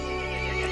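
A horse from Resident Evil Village neighs in a short, loud, steady burst set against a constant drone, with no talking.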